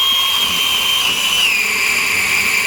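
Ryobi 18V P4360 pole chain saw with an 8-inch bar on a 9.5-foot pole, running a steady high motor whine while cutting into a branch about 5.5 inches thick; close, loud and continuous with no talk.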